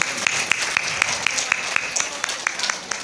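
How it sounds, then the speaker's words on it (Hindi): Audience applause after a Hindu religious discourse (Devi Bhagwat katha), heard as a steady patter of clapping with a few sharper claps standing out at a moderate distance. "इस समिति की तरफ से उनको एक बार जोरदार तालियां।"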